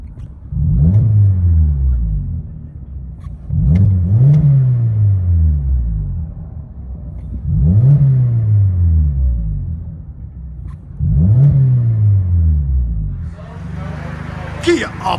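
A 2014 Kia Optima EX with a 2.4L GDI engine, a muffler delete and quad tips revs four times in steady succession, each deep, loud exhaust swell rising and falling back to a rumbling idle.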